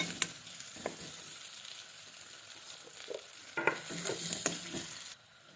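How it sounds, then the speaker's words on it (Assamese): Ginger garlic paste stirred into frying onions in a pan for a chicken dish, giving a low steady sizzle broken by scraping stir strokes that grow busier and louder toward the end. "তাৰপিছত এতিয়া মই তাতে দি দিছোঁ আদা নহৰু পেষ্টটো"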